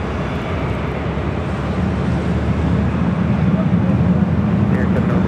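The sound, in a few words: Iberia Airbus A350-900 arriving aircraft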